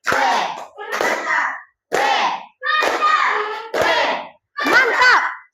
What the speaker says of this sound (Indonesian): Kita tepuk apresiasi, bisa, Nak? Oke, tepuk apresiasi.